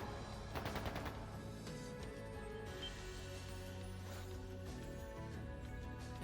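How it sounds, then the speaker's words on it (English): Gunfire in the video game Trails of Cold Steel 2, a sharp burst of shots near the start followed by a sustained rumbling barrage under steady game music, with no talk. "That sounded like gunfire."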